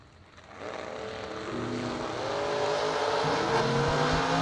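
Chevrolet Camaro drag car launching in the right lane at a drag-strip event, a loud engine roar that builds and holds steady as it accelerates away, heard without talk.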